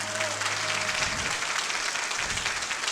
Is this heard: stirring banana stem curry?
no